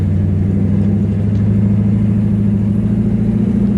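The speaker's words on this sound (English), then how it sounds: "It's a lot easier to hear that lope when the car is just kind of sitting and idling." A car engine idles with a rhythmic lope from a large camshaft, a loud close throbbing rumble pulsing evenly throughout with no voices.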